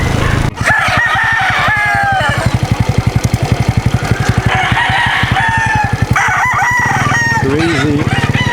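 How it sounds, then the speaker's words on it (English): Roosters crow repeatedly and loudly at an organic farmers market in Davao, with several drawn-out calls overlapping. A rapid, rhythmic engine chug runs underneath throughout, and faint voices can be heard in the background. "Crazy roosters"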